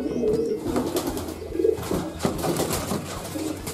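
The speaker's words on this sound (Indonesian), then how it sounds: "Ada 3 merpati yang akan saya loloh." Several pigeons coo softly in low repeated murmurs at close range, with faint chirps and background rustle, just before hand-feeding.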